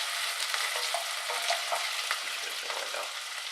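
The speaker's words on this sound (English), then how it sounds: "you're supposed to cook this gently, whereas I've had the heat quite high" Broccoli soup cooking on high heat gives a steady, close sizzle and bubbling with small stirring clicks and pops throughout, no voices.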